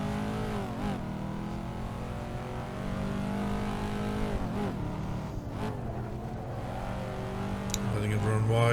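Corvette C5 Z06 (modded) in Assetto Corsa on the Nordschleife, engine revving and accelerating out of a corner with steady harmonic drone rising in pitch, under a continuous talking voice.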